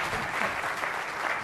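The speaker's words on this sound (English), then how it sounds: "Let's give a round of big applause." Audience applause fills a presentation hall at an IT adoption talk, a dense, steady wash of many hands clapping together for the full stretch without pause.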